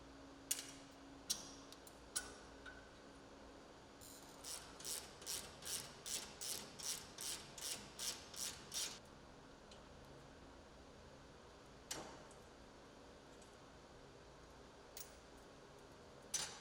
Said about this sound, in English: remove the two lower A-arm fasteners and washers and discard the nuts